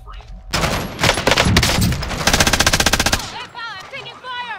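Loud bursts of automatic gunfire in a shooter video game, rapid dense shots that quicken into an even rattling stream, then stop as voices come in.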